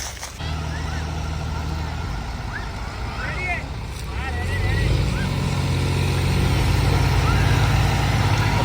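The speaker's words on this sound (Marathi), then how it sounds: "आता हे दोन्ही ट्रॅक्टरवाले एक साथ पुढे ओढणार आहे" Two tractors straining together to haul a stuck Eicher tempo truck loaded with sugarcane out of a farm field, with steady diesel engine drone that rises and thickens midway, while voices talk over it.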